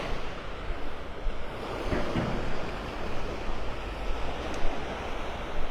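Ocean surf rolls ashore at Delnor-Wiggins beach in North Naples as a continuous loud wash of breaking waves, with gusty wind buffeting the microphone throughout.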